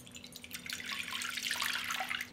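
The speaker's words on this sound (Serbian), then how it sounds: "Sipat ću u činiju 200 ml mlake vode." Lukewarm water pours into a bowl for making yeast dough, a soft splashing trickle that grows fuller and steadier over a couple of seconds, quiet and close with no talking.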